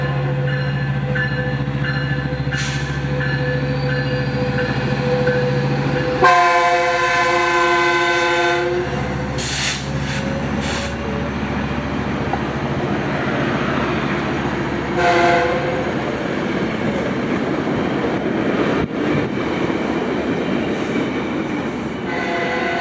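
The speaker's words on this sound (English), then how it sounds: "this being Metrolink 1754 heading to South Paris with F125 934 leading." A Metrolink commuter train led by an F125 locomotive passes close and loud, its engine rumbling before a long multi-tone horn blast, followed by rolling wheels, clatter and squeal as the cars go by.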